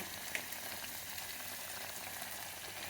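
Steady bubbling and hissing of spiced water simmering in a pot, constant and close with no voices.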